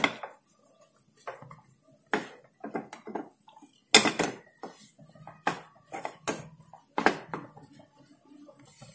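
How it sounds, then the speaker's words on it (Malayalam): Sweet dough ingredients mixed in a bowl for a Diwali sweet, a series of close, sharp clinks and scrapes of a utensil against the bowl in irregular bursts, without speech. "ഇനി ഇതെല്ലാം കൂടി നല്ലോണം ഒന്ന് മിക്സ് ചെയ്ത് കൊടുക്കാം."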